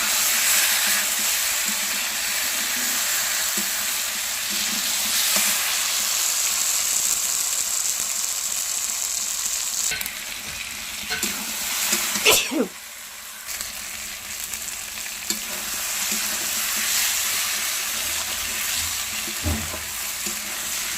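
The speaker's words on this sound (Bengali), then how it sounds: "এখন মাংস রান্না করব।" Meat cooking in a pan in a village kitchen, a loud continuous hissing sizzle with occasional stirring scrapes and a brief sharper burst midway, heard close.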